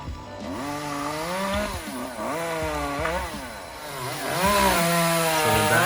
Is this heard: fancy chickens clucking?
no